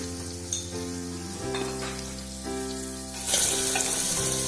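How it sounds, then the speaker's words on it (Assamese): Potato pieces with salt and turmeric fry in hot oil in a pressure cooker pot, giving a steady, close sizzle with a few bubbling pops and a louder hiss near the end. "আলু কেইপিচ নিমখ হালধি দি ভাজি লৈছোঁ"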